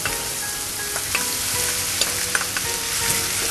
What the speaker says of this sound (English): Stir fry for a while.